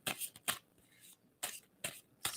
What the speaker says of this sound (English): And someone stop shuffling.